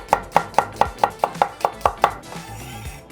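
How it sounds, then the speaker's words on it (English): A knife chops onions on a board: about ten crisp, evenly spaced chops in quick succession, loud and close, followed by a brief softer scrape. "now we're gonna chop up some onions"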